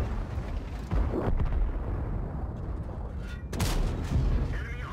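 Artillery shells land during a tank battle on the Kharkov map, heard as rumbling booms and sharp blasts over constant low battle noise, with some quieter gunfire between them.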